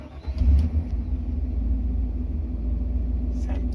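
A pickup truck fitted with a new Magnaflow stainless exhaust starts up at night with a short burst, then settles into a deep, steady idle rumble that carries on close by.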